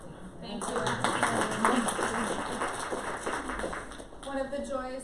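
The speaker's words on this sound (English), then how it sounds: "I want to give a big round of applause to Allison." An audience at a classroom presentation breaks into a round of applause, with dense clapping that swells and then tapers off as a voice cuts in near the end.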